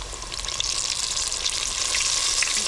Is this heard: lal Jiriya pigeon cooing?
no